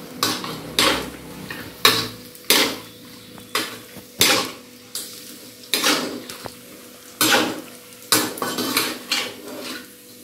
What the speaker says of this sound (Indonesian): Oke, setelah itu kita aduk dulu ya.